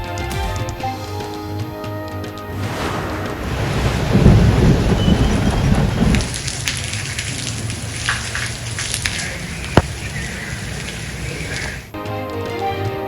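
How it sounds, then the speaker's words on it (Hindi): Rain falls steadily in a Punjab city, with a dense hiss of drops on surfaces and a deep rumble swelling near the middle before easing off toward the end. "पंजाब के मुख्तलिफ शहरों में बरसात।"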